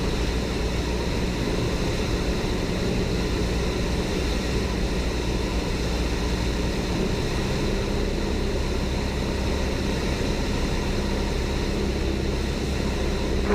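Light aircraft descending toward pattern altitude near an airport, a steady cabin engine and propeller drone, even and loud without pause.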